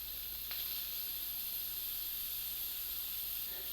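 Steam hisses steadily and softly from an Instant Pot pressure release valve with the lever pushed about halfway while cooking Mexican pulled pork, a continuous close hiss with no talking.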